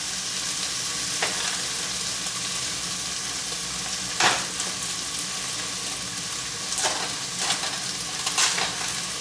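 Steak frying in a pan, a steady moderate sizzle that carries on throughout, with a few sharper crackling spits and spatula scrapes at intervals.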